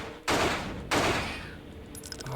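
Two heavy gunshots in the video game Alone in the Dark: The New Nightmare, loud and close, each followed by a long decaying boom, with a quieter shot at the end.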